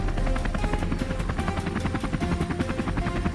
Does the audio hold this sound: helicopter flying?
yes